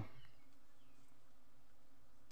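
Wild honey bees flying in the Philippine countryside, a faint steady buzzing drone under outdoor background noise, with a brief louder touch at the start.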